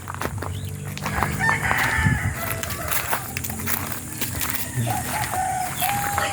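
A rooster crows in a hot, sun-baked yard among other fowl, loud and fairly close, with clucking and outdoor background noise throughout.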